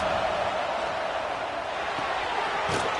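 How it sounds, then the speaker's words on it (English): A stadium crowd at a football game roars steadily on third down, a dense, continuous wall of noise with no breaks across the whole stretch. "Listen to this crowd just shaking the girders of this place trying to help their defense."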